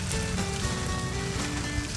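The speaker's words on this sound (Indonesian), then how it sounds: "Disiram sampai basah." Water poured over a potted plant cutting in a polybag until the soil is soaked, a steady broadband splashing and pattering that runs continuously and fairly loud with no talk.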